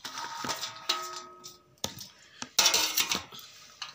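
Utensils clink and scrape in a bowl as vegetable pickle ingredients with lemon, peas, garlic and ginger are stirred together, giving irregular close-up clatters and taps, louder toward the end.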